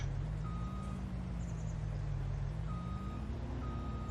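Reversing beeps from a tractor pulling a trailer out on a farm in Farming Simulator 19, sounding as a few evenly spaced tonal beeps over a loud, steady low engine rumble.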